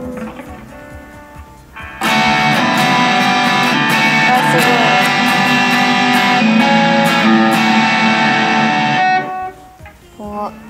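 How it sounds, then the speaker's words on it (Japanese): An electric guitar through a newly bought amplifier bursts in with a loud, heavily distorted chord sound that rings for about seven seconds, framed by brief talk before and after. "歪みも鳴らしてみましょうか"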